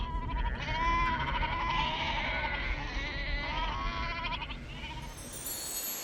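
Several Antiguan goats bleat in a wavering chorus, the calls overlapping and fairly close, over a low rumble of outdoor background noise.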